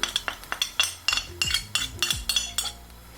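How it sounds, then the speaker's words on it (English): Mixed veg, onion, butter and turmeric are stirred in a metal pot, a spoon scraping and clinking against the sides in a steady rhythm of about a dozen close, distinct strokes with no voices. "Give it a little bit of a stir"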